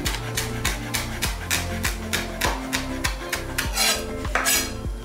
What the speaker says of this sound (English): I'm just gonna kind of roll up the sage leaves and we're just gonna finely chop.